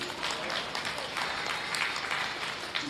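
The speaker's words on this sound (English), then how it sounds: "Let's give Ayla a nice round of applause" Steady crowd applause at a county fair goat show greets a handler, a dense even patter of clapping sustained throughout with faint voices in the background.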